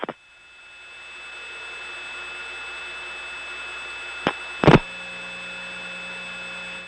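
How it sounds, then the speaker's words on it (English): Inside a 1977 Step-by-Step electromechanical telephone exchange in Woodstock, Georgia, a connector switch cuts off a call with a sharp double click over a steady line tone and hum, preceded by an earlier faint click. "that click was the sound of a connector switch in Woodstock cutting us off the line"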